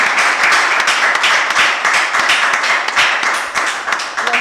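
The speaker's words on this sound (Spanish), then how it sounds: "Los aplausos lo dicen" A theatre audience at a tribute event for actor Sergio Corrieri breaks into loud, sustained applause, a dense crackling wash of many clapping hands that carries on throughout without pause.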